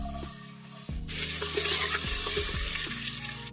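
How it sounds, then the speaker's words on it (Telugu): Onions go into hot oil in a pressure cooker and sizzle loudly and steadily, while a spoon clinks and stirs them in a rhythmic pattern throughout. "ఇప్పుడు నూనె వేడైంది, దీంట్లో ఆనియన్స్ వేద్దాం."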